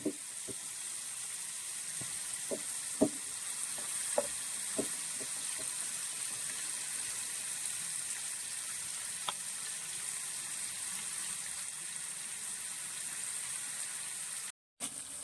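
Fish frying lightly in a pan for a traditional Kerala dish, a steady soft sizzle with occasional small pops and crackles, close and fairly quiet.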